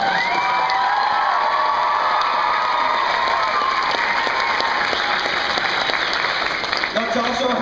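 A crowd at a book launch party for Beyonders: A World Without Heroes applauds and cheers loudly for the publisher, with dense sustained clapping, whoops and shouts running throughout.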